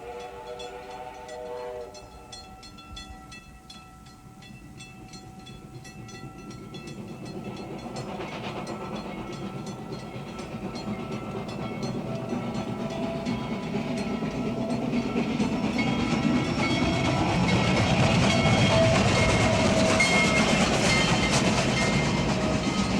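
A steam locomotive running on a Canadian railway, starting with a whistle-like tone, then a hissing, rumbling roar that grows steadily louder as the engine approaches and passes close by.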